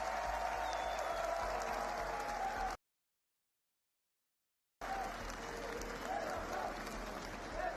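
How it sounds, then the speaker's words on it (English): Copenhagen crowd at a Rocket League Championship Major LAN event applauding loudly, a steady wash of clapping and cheering that breaks off into silence and then resumes just as strong. "The Copenhagen crowd has been nothing short of phenomenal so far."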